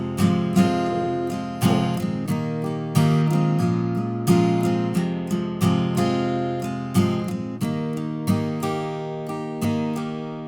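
Acoustic guitar strummed through the verse chords of a song in a steady down-up pattern, with regular accented strokes and chord changes, played alone and up close.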